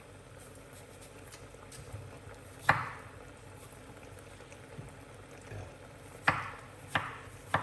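Knife chopping tomato on a cutting board in a home kitchen, a few sharp isolated chops spaced seconds apart over a low background hum, with a brief spoken word.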